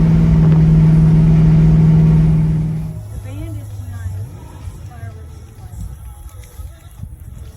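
A big-block 1970 Chevrolet Caprice engine roars loudly and steadily at high revs for a few seconds, then drops away to a low rumble while voices talk over it.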